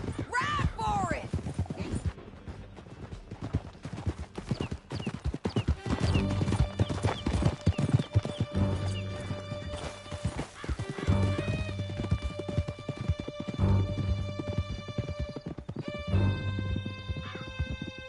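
Horses gallop in Red Dead Redemption 2 with steady, close hoof clip-clop throughout, occasional whinnies, voices talking over the ride and game music in the background.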